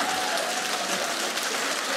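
Studio audience at a comedy show on a theater stage gives loud, dense, continuous applause, a steady hiss of many hands clapping at once for two seconds.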